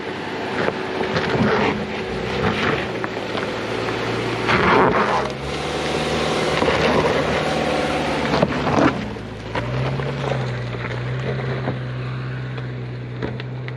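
2022 Subaru Forester Wilderness driving off-road over rocky ground, a moderate engine drone that strains and shifts under wind buffeting on the microphone.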